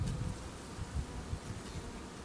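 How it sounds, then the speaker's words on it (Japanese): Honeybees returning to their hive boxes at an apiary in early spring, a continuous close buzzing drone of many wings, steady and moderately loud with no voices. "50メートル離れた越冬場所で巣の外に出た蜂たちが養蜂場に移した巣箱にこうやってちゃんと戻ってこれた"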